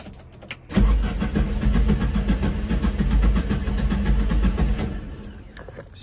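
A VW Brasília's engine cranks and catches with a loud, sudden start, then settles into a steady, rumbling idle up close before cutting off near the end, with no talking over it.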